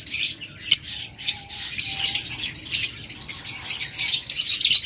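A pair of olive opaline pet birds chirp in rapid, high bursts, one overlapping the next almost without pause, close and fairly loud with a few sharper peaks.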